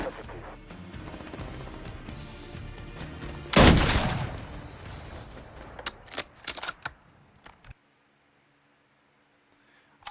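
MW4 gunfire: a sudden loud burst of shots and a crash, followed by scattered sharp reports that thin out, then fade to near silence.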